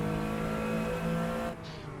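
A 1974 Porsche RSR 3.0 racing engine in the game Assetto Corsa drones at high revs, steady and loud, dipping slightly near the end.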